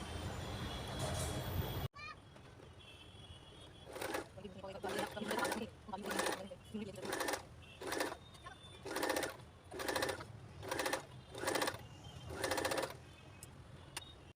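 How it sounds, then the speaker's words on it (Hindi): Sewing machine top stitching a shopping bag made from a reused blouse piece, close rapid mechanical chattering in repeated short bursts with pauses between, after a brief stretch of speech at the start. "अब इस तरह से हम ऊपर टॉप स्टिच करेंगे।"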